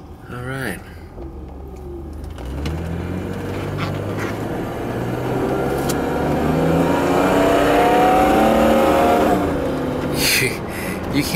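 A 1986 BMW 735i E23 sedan with a 3.5L six-cylinder engine pulls away and accelerates steadily, its engine note rising and falling as it climbs through the gears, heard from inside the car.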